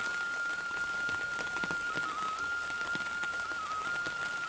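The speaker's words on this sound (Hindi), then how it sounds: "काफ़ी बारिश आ रही है" Steady, dense hiss of heavy rain falling continuously, with a faint high whistling tone running through it.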